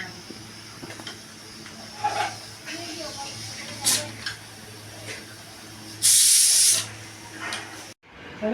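A pressure cooker that has been boiling mango kernels is taken off the gas. Its steam hisses softly under a low background hum, then a loud, steady hiss bursts out for about a second before falling quiet.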